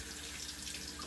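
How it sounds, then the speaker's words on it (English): Water runs steadily from a hotel bathroom sink tap, a continuous close hiss and splash with no breaks, heard alone without any talking. "I apologize for the running water"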